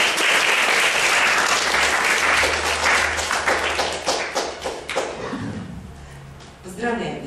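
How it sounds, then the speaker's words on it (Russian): Audience applauding a student award winner at a radio festival, dense clapping that starts full and loud, then thins and fades toward the end as a voice begins over the last moments. "Аплодируем."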